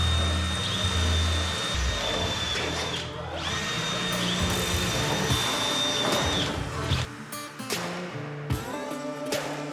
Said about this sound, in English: we're gonna grab 2 drills and just start doing a bunch of holes